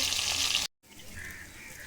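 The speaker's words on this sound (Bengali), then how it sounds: "মাছগুলো ভেজে নেব।" Rohu and bhola fish fry in oil with a bright, dense hiss that drops out abruptly for a moment, then returns softer and steadier.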